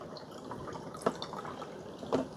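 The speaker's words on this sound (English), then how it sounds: "And now we're going to pour the water." Water is poured from a heavy 14-cup glass carafe into the reservoir of a CRUXGG programmable coffee maker, a soft trickling and splashing with a couple of sharper drips, fairly quiet and close.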